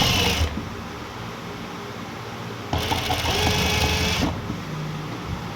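A sewing machine stitches a kameez in two bursts of rapid, steady mechanical whirring, close and clear, separated by quieter pauses.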